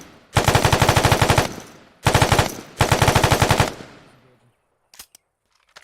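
Sustained automatic weapon fire from the video game Squad: three loud, rapid bursts of machine gun shots in quick rhythm, the last one tailing off, followed by a few faint scattered distant pops.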